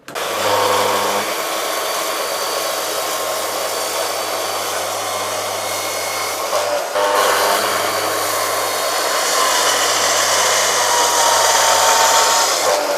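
A power tool cutting a wooden table leg to size for a river table, a loud steady whine running nearly unbroken with a brief dip midway, close and alone without talk.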